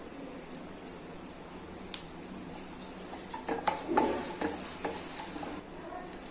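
Cumin seeds dropped into hot desi ghee in a pan for moong dal khichdi, giving a soft steady sizzle with scattered crackles and a few light clinks of a spoon against the pan, close and moderately quiet.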